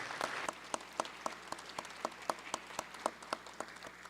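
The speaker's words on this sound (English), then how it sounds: "Let's give Mr. Pike a round of applause." Applause in a state House chamber for an honoured educator, with a soft bed of clapping under prominent, evenly spaced single claps in a regular rhythm, fairly quiet and distant.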